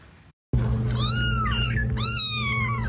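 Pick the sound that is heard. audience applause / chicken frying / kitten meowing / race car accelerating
kitten meowing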